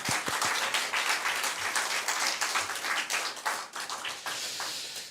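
A congregation applauds during a church first-anniversary thanksgiving service, steady full-room clapping that holds for several seconds at moderate distance before thinning out and stopping near the end.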